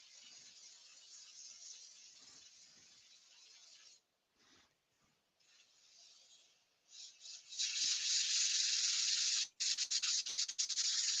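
A purple heart woodturning is sanded with 80 grit on the lathe, making a hissy, rubbing whoosh that fades and breaks off, then returns louder and steady near the end, with no talk.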